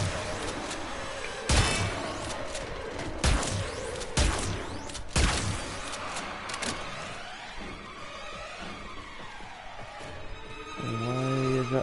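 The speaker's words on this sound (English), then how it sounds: "The explosions knock them on the butt." Several sharp, booming blasts ring out at irregular intervals amid rumbling sounds in the PS4 game Warframe, followed by a rising mechanical whine.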